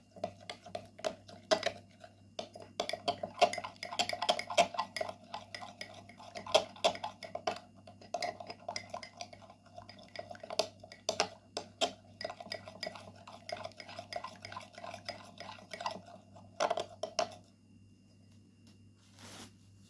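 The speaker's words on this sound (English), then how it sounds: "Then add 1 teaspoon of aloe vera gel and mix well all the ingredients." A spoon stirs honey, cornstarch and aloe vera gel in a small bowl, producing close, steady scraping and clinking against the bowl for most of the clip before it falls quiet.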